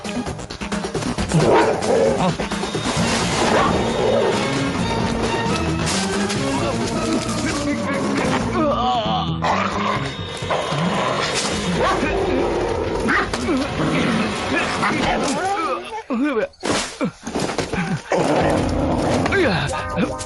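A voice imitates a dog barking, loud and close, with repeated bark-like bursts mixed into busy movie audio with music and other talk.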